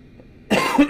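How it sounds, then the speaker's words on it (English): After a brief quiet moment, a person coughs abruptly and hoarsely during a Concorde flight simulator session, with a second rough push of breath right after. "Sorry for my coughing."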